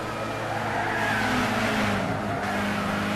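A Nissan Zytek LMP2 prototype at Le Mans in Gran Turismo 6 roars steadily at high speed, its engine note holding a continuous, loud drone with some tire noise and no talking.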